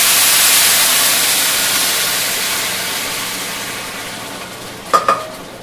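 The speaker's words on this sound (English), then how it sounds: "now you can start adding your broth" Broth poured into a paella pan of rice and seafood hisses in a broad, steady sizzle that slowly fades, with a brief clink of a utensil near the end and no talk.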